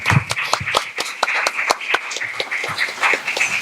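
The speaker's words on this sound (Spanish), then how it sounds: "démosle un abrazo y un aplauso a nuestros colegas" Audience applause at a panel on journalism and criminal violence, a crowd clapping steadily with sharp, dense hand claps throughout, moderately loud and without talk over it.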